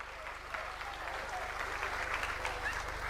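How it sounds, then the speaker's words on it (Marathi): A political rally crowd claps in a sustained burst of dense applause, steady and fairly far off, building slightly toward the end with no speech over it. "जोरदार टाळी वाजवा."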